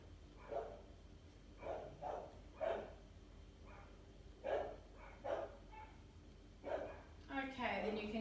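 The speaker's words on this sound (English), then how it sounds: "You can hear them running along the fence." Dogs bark repeatedly in the distance as they run along a fence outdoors, sounding faint behind a low background hiss, with the barks coming in short, irregular bursts.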